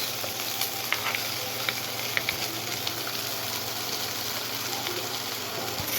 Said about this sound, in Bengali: এই যে এর মধ্যে কড়াইতে দিয়ে দিলাম পেঁয়াজ